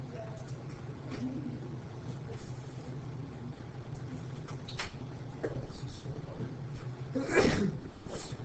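One sneeze bursts out near the end over a steady low background hum, with a little faint, muffled activity beforehand.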